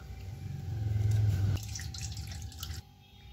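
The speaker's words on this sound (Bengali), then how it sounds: "আমি এইভাবে ততক্ষণই ধুতে থাকবো যতক্ষণ আমার জলটা একদম সাদা না বেরোয়" Water splashes and drips as food is washed by hand in a bowl until the water runs clear, a steady wet sloshing with a brief tonal hum in the background, no talk.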